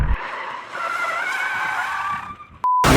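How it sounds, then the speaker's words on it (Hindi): A car slides across wet pavement after the hand brake is pulled, its tires skidding in a loud, sustained squeal of about two and a half seconds that fades out before an abrupt electronic beep. "हैंड ब्रेक खींचता था, गाड़ी से स्लाइडिंग करती हुई इधर से उधर जाती थी"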